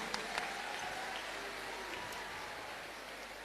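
Applause for a family performing a havan at a Bageshwar Dham gathering, a faint, steady hiss of many hands clapping at a distance, continuous throughout without speech.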